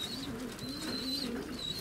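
Domestic pigeons coo softly in a loft, low throaty murmurs repeating in a steady rhythm close by, with faint higher chirps above.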